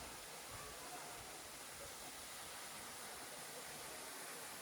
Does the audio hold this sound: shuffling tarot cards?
no